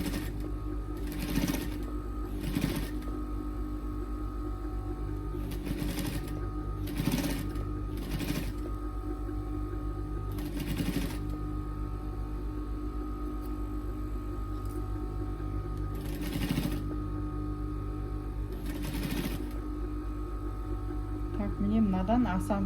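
Sewing machine stitching patchwork seams for a quilted kitchen mat, running in repeated short bursts with pauses between them, close and steady, under a low constant hum and occasional quiet talk.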